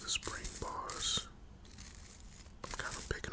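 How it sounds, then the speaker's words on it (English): Small metal watch spring bars stirred and shifted with tweezers in a palm, giving close, quiet clicking and scraping with faint tinkles in short bursts around a brief lull. "I'm kind of picking them up and stirring them up with the tweezers."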